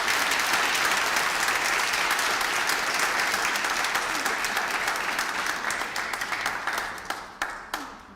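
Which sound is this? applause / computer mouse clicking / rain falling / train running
applause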